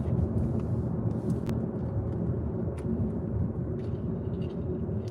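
Steady low road rumble from car tires rolling over rough, broken city streets, heard from inside the vehicle as a continuous broadband drone with no talk.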